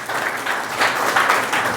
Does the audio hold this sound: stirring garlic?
no